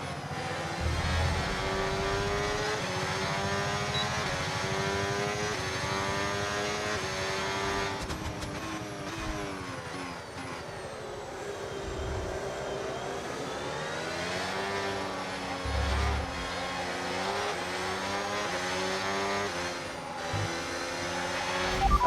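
F1 race car engine in the F1 26 racing game with hybrid overtake boost engaged, a continuous high-pitched whine that rises and falls with gear shifts, loud and steady throughout.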